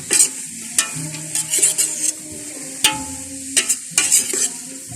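A spoon stirs chicken broth in a pot while the food sizzles, with scraping strokes and clinks coming in irregular bursts over a steady frying hiss, close and alone.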